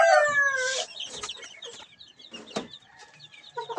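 Large farm-raised chickens clucking close by in an irregular run of short calls, with a rooster-like call at the start and scattered squawks throughout.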